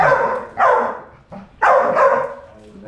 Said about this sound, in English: the dogs are having good fun now. They're tearing around, barking at each other.